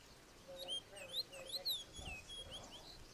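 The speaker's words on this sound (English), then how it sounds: "this is the fox sparrow song." A fox sparrow sings a faint, quick series of bright, sliding whistled notes, played back quietly over low background hiss.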